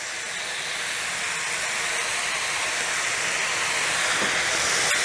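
Half a kilo of minced mutton frying in a pan for keema with cabbage, giving a steady loud hiss and crackle throughout with no voices.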